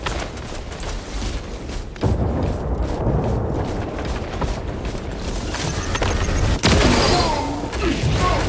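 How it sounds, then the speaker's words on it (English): A frag grenade detonates amid continuous combat in the video game Space Marine 2, a sharp boom landing near two seconds and another heavy blast later, with ongoing rumble and battle noise throughout. "Tossing frag grenade!"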